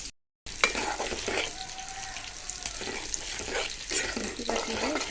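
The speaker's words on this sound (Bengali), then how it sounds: "তেল উঠে এসেছে, আমরা এটা আরও একটু কষাবো।" Taro leaf dish cooking in oil in a pan, a steady sizzle and frying hiss with scraping stir strokes and occasional clinks, loud and close throughout.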